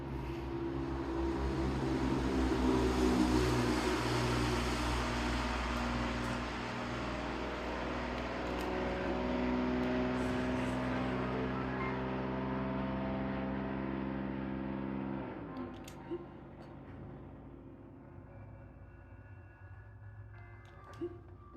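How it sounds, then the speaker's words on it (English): A loud car engine in Breath of the Wild roars close by, its broad rumble swelling then fading away over about fifteen seconds, leaving quieter background hum. "it's a pretty loud car, huh?"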